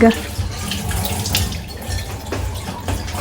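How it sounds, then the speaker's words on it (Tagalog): Running tap water splashes steadily into a sink or container, with light clattering as something is rinsed; a faint voice murmurs in the background. "Hinuhugasan naman po ni Kim dito yung paglalagyan ng ano ano ng tubig."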